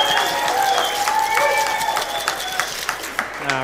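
Audience applause and cheering for the final contestant at a live competition event, a dense, loud wash of clapping that fills the whole stretch and thins slightly toward the end.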